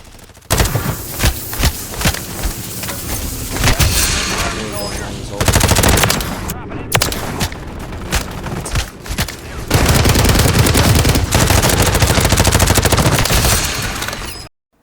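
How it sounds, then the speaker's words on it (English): SMG fire in the video game Call of Duty: MW3, repeated rapid bursts of automatic shots separated by short pauses, then a long sustained volley, loud and close, with voices heard between the bursts. "most of these clips you see me finishing people off with the SMG"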